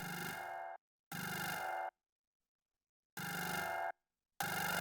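A bright, synthetic ringing tone from Analog Lab sounds in bursts, three long pulses and a short one, separated by clean silence.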